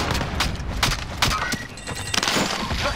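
Cluster strike explosions burst in a Call of Duty Modern Warfare Plunder match, a rapid string of booms and cracks like gunfire layered over each other, loud and close for a few seconds.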